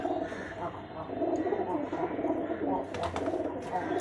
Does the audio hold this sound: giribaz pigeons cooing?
yes